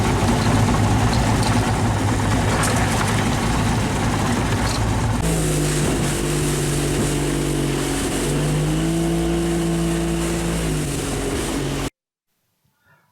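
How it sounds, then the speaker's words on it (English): A gasoline boat engine drones while trolling on the Pacific Ocean off the central Oregon coast. At first it is a rough wash of noise, then it becomes a steady hum whose pitch wavers before it cuts off. "We hear the irregular hum of a well-tuned gasoline engine as it moves us through the briny waters of the Pacific Ocean"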